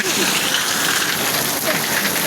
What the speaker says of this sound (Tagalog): Dahil malakas ang ulan, dahil nandyan si Bagyong Owan